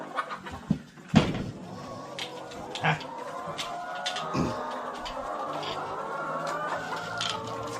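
Chickens cluck and chirp softly amid a faint mechanical hum, with occasional light knocks and brief voices, as they wait to be fed black soldier fly larvae.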